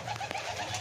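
Pigeons cooing in a rooftop pigeon house, a flock of black pigeons; soft, overlapping low coos repeat steadily and close by with no talk.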